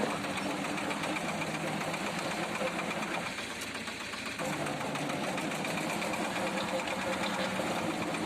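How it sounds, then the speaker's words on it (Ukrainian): A homemade soil tiller on a mini tractor runs with a steady engine drone and mechanical rattle, briefly changing tone as the radial safety slip clutch slips on hard ground, then carrying on. "ґрунтофреза потрапила на тверду ділянку землі, тому спрацювала запобіжна радіально штатова муфта"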